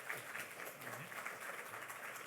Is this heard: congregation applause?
yes